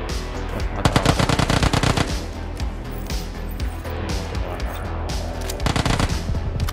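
Automatic gunfire in PUBG Battlegrounds, with rapid rhythmic bursts from a submachine gun, loud and close, repeating in several volleys.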